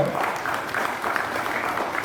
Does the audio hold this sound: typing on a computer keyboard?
no